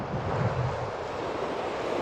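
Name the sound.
strong wind while fly fishing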